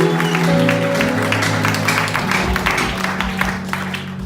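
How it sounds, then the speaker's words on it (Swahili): A church congregation claps together in a sustained burst of applause at a Sunday service, with musical instrument tones sounding alongside and underneath the clapping. "Patia Bwana makofi mazuri."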